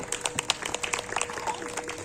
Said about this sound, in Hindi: दियांशी के लिए एक बार फिर से जोरदार तालियां।